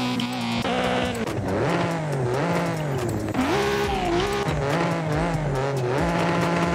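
Racing car in Forza Horizon 5 at full throttle, engine note rising and falling through repeated gear changes, with tire squeal and skidding mixed in, loud and continuous.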